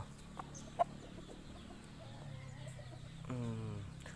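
Backyard chickens cluck softly nearby in scattered calls, with one sharper squawk early and a longer run of clucking near the end.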